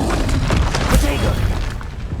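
Spell effects from the Hogwarts Legacy video game, booming magical impacts and whooshes layered continuously with a loud peak near the middle, while a voice calls out over them.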